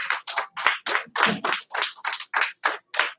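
Eleven or so sharp, evenly spaced hand claps ring out in a karate class, each crisp and distinct in a steady rhythm, close and clear with no talking.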